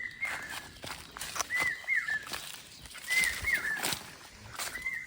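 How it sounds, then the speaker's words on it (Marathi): Birds call in a Konkan forest near a farm, giving short, repeated whistled notes at moderate distance over quiet rustling and footsteps. "पक्ष्यांचा आवाज बघा"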